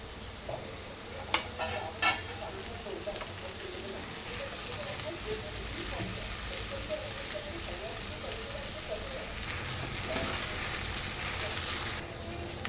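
Okra, onion and tomato pieces frying in a pan, a continuous low sizzle with a few sharp clinks early on and occasional stirring, close but subdued, without any talking.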